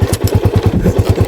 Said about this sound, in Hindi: अपना बाइक स्टार्ट हो चुका है